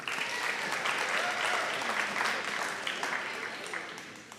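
An audience at a school fall athletic awards night applauds first-team all-region players. The steady crowd clapping is dense and sustained, then slowly fades toward the end.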